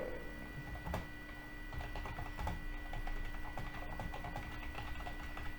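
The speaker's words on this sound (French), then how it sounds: "Si j'écris bonjour Caroline, j'ai hâte à la rencontre" Keystrokes on a computer keyboard while a chat message is typed into a Microsoft Teams meeting, a quick steady patter of clicks at moderate level over a faint background hum.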